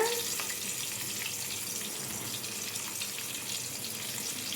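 Eggplant frying in hot oil in a home kitchen, a steady broadband sizzle that stays loud and even throughout, close by with no talking.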